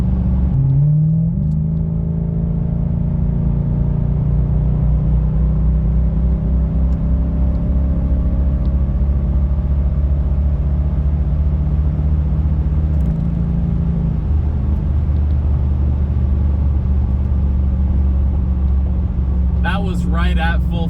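A Lexus LS400 fitted with a Trans-Go shift kit accelerates at full throttle on a cold morning, its engine drone rising steadily through the gears with a brief dip at a shift, loud and continuous from start to finish.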